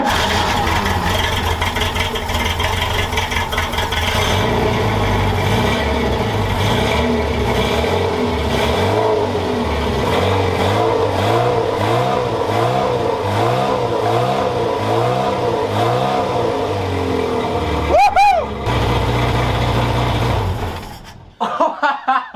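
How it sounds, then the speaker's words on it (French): A Renault 4L engine fitted with two original carburettors fires up and revs hard, holding loud sustained high revs with rhythmic throttle blips, then drops to a rough idle before cutting off near the end. "Il est temps d'essayer de démarrer à nouveau la 4L."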